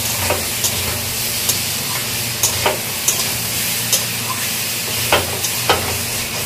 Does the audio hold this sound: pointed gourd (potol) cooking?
yes